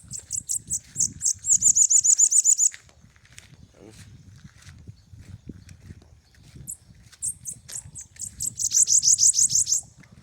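A small bird sings bright, rapid trilling phrases in bursts, close and loud, with low rustling and handling noises between phrases.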